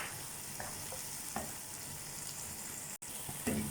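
Tomato and green chili frying with browned onion in a pan, a steady close sizzle with a few soft stirring scrapes and no voices.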